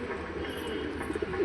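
Black-eyed black Mechua pigeon cooing softly, a few low coos rising near the end over steady background hiss.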